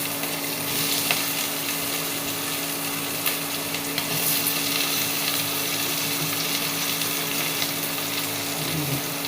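Potatoes and pumpkin fry in a wok with ginger, green chilli and asafoetida, giving a steady, continuous sizzle close by with faint stirring, and no talking.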